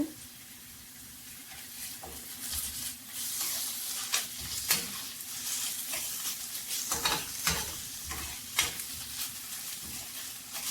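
Ginger garlic paste fries with onions in a pan for a chickpea curry, a steady close sizzle broken by frequent scraping strokes of a spatula as the mix is stirred.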